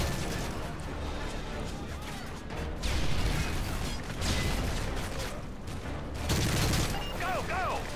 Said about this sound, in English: I knew where I was getting shot from.